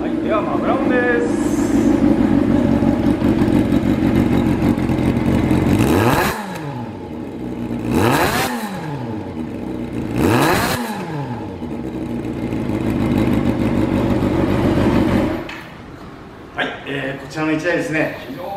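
A Kawasaki Zephyr χ motorcycle with a Nakano exhaust runs loud and close with a throaty rumble. Its steady idle is broken by three sharp throttle blips that rise and fall.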